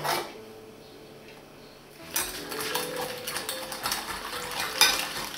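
A spoon stirs yeast, a spoonful of sugar and a spoonful of flour into warm milk for a sweet roll dough, with soft clinks and scraping against the bowl, quiet at first and then busier.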